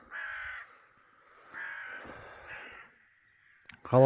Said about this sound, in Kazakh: мына қарға мазан алды ғой